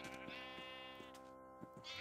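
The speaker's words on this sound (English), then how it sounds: "No, baby sheep, this way." Bleating from a baby sheep in a video-game farm setting, a steady sustained call with a second bleat near the end, loud and close with no talk over it.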